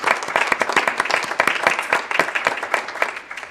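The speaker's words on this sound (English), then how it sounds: "I think, yeah, we can clap for that." Audience at a school board meeting clapping together, a steady, dense patter of many hands at close range that carries on for several seconds without talk.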